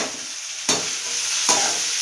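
Crushed garlic going into hot oil with onion and curry leaves for an ivy gourd stir-fry, a continuous hiss of frying broken by two sharp stirring scrapes.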